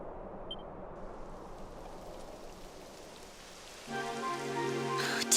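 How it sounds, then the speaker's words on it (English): Rain falls steadily in the video game Dragon Quest XI, a soft even patter that builds slightly, with musical tones joining near the end. "It would have to go and start raining, wouldn't it?"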